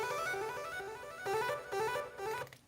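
Synth notes from FL Studio's 3x Osc plugin, a short run of bright tones with delay and reverb, each note echoing and repeating in a rhythmic pattern before the tail fades out at the end.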